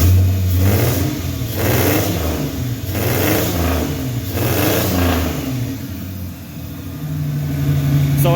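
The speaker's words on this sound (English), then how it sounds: "Let's give it a quick rev here." A turbocharged Nissan Xterra engine in a dune buggy with tubular piping revs several times in succession, loud and close, each rise swelling and falling back toward a rough idle, with no talking.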